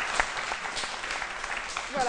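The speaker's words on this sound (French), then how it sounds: "Joséphine, on l'applaudit" Studio audience applause on a television talk show, a dense, fairly loud patter of many hands filling the room, with a voice coming in at the end.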